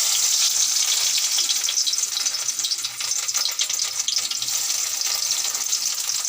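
Tempering (baghar) for dal frying in hot oil, a loud, bright, continuous sizzle heard close up, with no talking.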